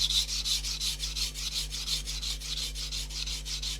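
A blade ground lengthwise on a coarse sharpening stone, giving rhythmic back-and-forth rasping strokes, about three per second, close and even over a faint low hum.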